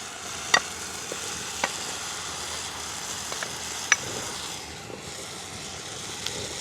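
Green beans and softened tomatoes stir-fry in a pan with a steady sizzle, broken by a few sharp utensil taps and clinks against the pan, close and alone without talk.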